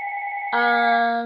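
A mobile phone ringtone plays loudly and close by, a steady two-tone electronic chime that jumps into a fuller, brighter melodic burst halfway through, with no talk over it.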